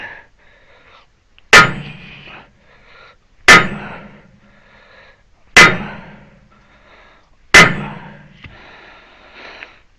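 A hammer strikes a stuck hydraulic cylinder pin on a Case 580 backhoe outrigger ram, four loud, sharp metallic clangs spaced about two seconds apart, each ringing briefly before fading.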